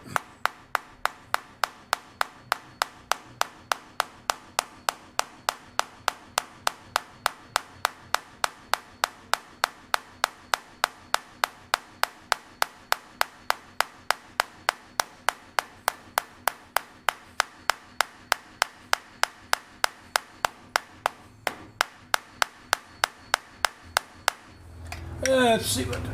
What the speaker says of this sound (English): You just got to keep tapping away at it.